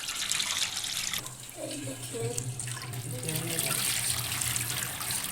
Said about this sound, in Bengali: এখানে দেখছেন আমি ধুয়ে নিচ্ছি, 2-3-4 বার ধুয়ে নিয়েছি।